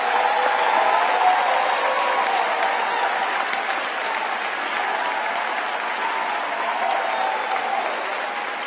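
At a university graduate commencement, a large audience applauds veterans among the graduates: a sustained, even roar of clapping filling a big hall, loud and unbroken for several seconds before easing slightly.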